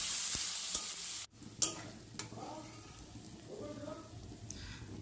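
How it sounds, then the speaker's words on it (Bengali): Chopped onions fry in hot oil for poppy-seed onion curry, a low steady sizzle with a sharp clatter of a utensil against the pan near the start, followed by soft stirring scrapes. "আর তারপর এই পেঁয়াজগুলো আমি ভাজতে থাকবো"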